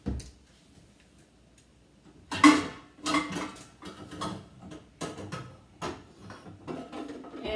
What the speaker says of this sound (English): Now what I'm going to do is I'm going to get a pot.